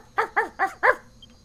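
Four quick, evenly spaced barks from a puppy in the video game Dragon Quest Builders 2, close and clear with no talking.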